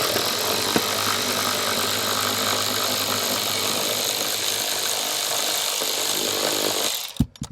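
A power driver spins out T30 Torx bolts in the cargo area of a 2024 BMW X5, producing a loud, sustained high-pitched motor whir that runs steadily before cutting off into a few clunks.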